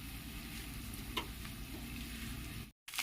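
An egg frying in a pan of oil with garam masala gives a steady, soft sizzle close by, broken by a single faint tick midway and a brief cut to silence near the end.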